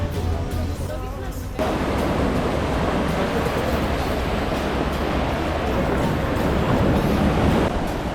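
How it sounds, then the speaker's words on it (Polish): Big sea waves on the coast at Budva wash in as a loud, roaring surge that hits suddenly after a quieter moment, then keeps rushing steadily and close. "wielkie fale, że ta droga, którą szliśmy, to przejście, jest zbyt w falach"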